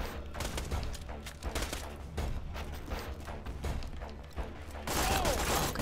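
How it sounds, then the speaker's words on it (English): SMG gunfire in the Borderlands 2 shooter on Xbox One against nomads, rapid continuous bursts of shots with thumps and clatter, loud and dense for the whole stretch, briefly swelling into a louder blast at the end. "Let's just use our SMG here."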